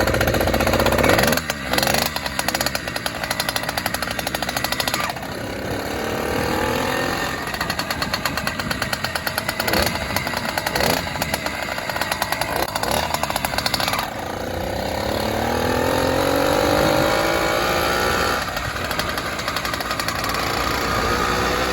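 A Bike Berry motorized bicycle's small two-stroke engine runs loud and raspy, with buzzing revs that rise and fall in pitch, rough rattling and a steady drone throughout.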